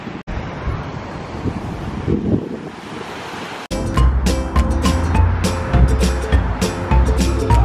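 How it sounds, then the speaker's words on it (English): Ocean surf on a Hawaii shore where the waves run big, a continuous roar of breaking water with heavy wind buffeting the microphone, then a louder, busier stretch after an abrupt cut. "The waves are a lot bigger today than yesterday"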